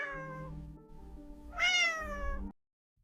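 A cat gives a drawn-out, fairly quiet meow that climbs into a brighter, louder cry partway through, then breaks off into silence.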